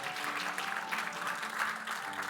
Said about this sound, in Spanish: Dele ese fuerte aplauso al Señor porque Él es bueno.